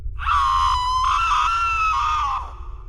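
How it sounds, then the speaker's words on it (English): A creature lets out a single sustained, high, shrieking screech over a low rumbling background, holding for about two seconds before cutting off. "it let out this screech"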